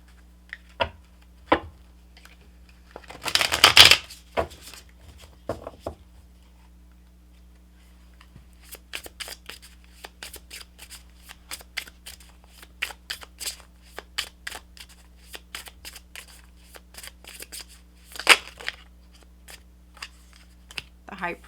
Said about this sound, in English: let me give these cards a better shuffle here